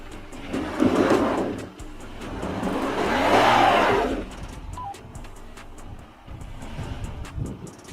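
A Lexus RX SUV driven on a test course with stability control switched off, its engine swelling in two broad surges of revving and then easing to a lower drone, moderately close with no talk.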